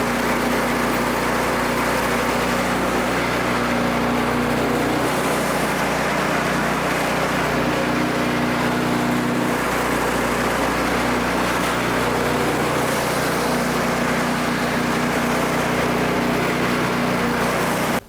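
A snowblower engine with a fault that makes it go forward in reverse gear runs steadily at a constant drone for the whole stretch, loud and close with no speech.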